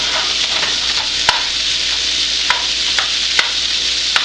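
Leftover potatoes topped with butter, sour cream and cheese sizzle loudly in a pan as a utensil chops at them, giving several sharp scraping clicks spaced irregularly over the steady frying hiss.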